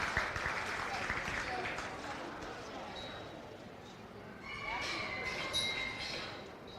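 Applause from a crowd at a county fair goat show, steady and moderate throughout, with some background voices mixed in.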